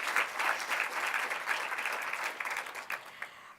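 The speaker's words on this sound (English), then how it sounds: "Let's give him a big round of applause." Audience applause at a 60th anniversary gala, a dense, sustained clapping from a large crowd that carries on steadily and thins slightly toward the end.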